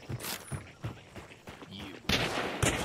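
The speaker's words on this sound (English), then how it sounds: "There goes six bullets." Rapid gunshots from a Bornheim Swift pistol in a video game, a quick series of sharp cracks that ends in a louder, denser burst of fire.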